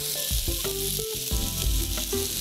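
Garlic and onions fry in hot oil in a pan in a home kitchen, a loud, continuous close sizzle with occasional stirring scrapes and no voices.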